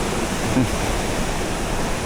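Tat Kong waterfall in the rainy season roars as a loud, continuous broadband rush of falling water, steady throughout with no voices.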